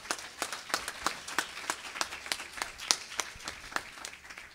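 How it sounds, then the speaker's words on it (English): A church congregation applauds at a Sunday evening service, a fairly quiet, steady rhythm of hand claps with distinct individual claps standing out over several seconds. "Give one more big hand clap."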